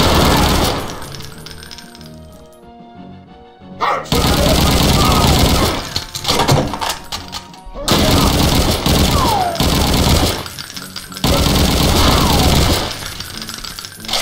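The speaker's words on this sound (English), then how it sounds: "Me and my brand new assault rifle." Assault rifle fire in Brutal Wolfenstein, loud dense bursts of rapid shots in several long strings separated by short pauses, with clinking brass and a voice talking in between.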